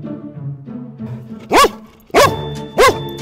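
A puppy barks three loud, close, sharp times in a short run, after soft low whimpering or grumbling noises.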